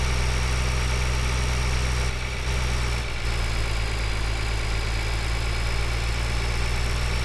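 A tractor engine idles in a farming video game, heard from an in-cab camera view as a steady low droning hum with a constant mechanical vibration, loud and alone without talk.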